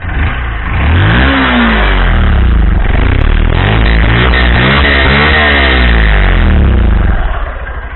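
A loud engine revs up steadily and holds at high revs, its pitch sweeping up and down, then eases off near the end.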